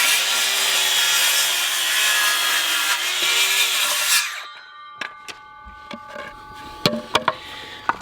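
A handsaw cuts off the excess end of a 2x4 on a custom wooden pallet for a box blade, rasping steadily for about four seconds, then stops and gives way to scattered light knocks and clatter.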